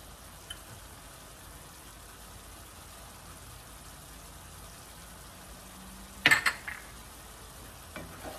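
BBQ shrimp with Cajun seasoning cooking in a pan give a faint, steady low sizzle, with a sharp utensil clatter near the end and a light tap just after.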